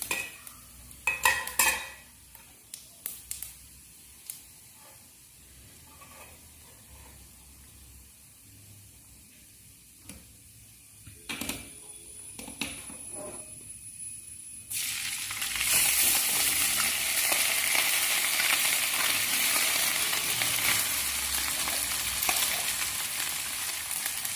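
Cooked rice tipped into a pan of frying cumin and stirred, with scraping and a brief sizzle, followed by a loud, steady, broad frying hiss that runs on alone to the end.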